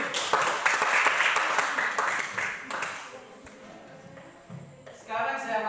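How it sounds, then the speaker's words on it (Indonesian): A third-grade class claps for a classmate, a brisk burst of close hand-clapping that tapers off after a few seconds, followed by a teacher's voice. "Berikan tepuk tangan untuk si dia dulu."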